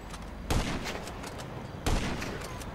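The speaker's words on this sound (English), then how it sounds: "I'm pulling out my long rifle." Two sharp, loud long-rifle shots in a video game ring out about a second and a half apart, each a broadband crack trailing into a rumbling tail over steady background game noise.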